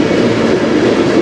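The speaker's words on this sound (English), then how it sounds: "this is our fifth train, which is pretty good" A CN manifest freight train led by locomotives CN 2849 and CN 2518 rumbles past loud and close on the Strathroy Subdivision, a steady dense roar of wheels and rail noise with no break or voices.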